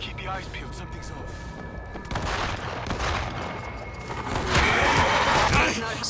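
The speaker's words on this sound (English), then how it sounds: "Sounds like those shots came from the bus." Bursts of rapid gunfire in the zombie shooter World War Z Aftermath, dense crackling shots over a noisy game soundscape, growing louder toward the end.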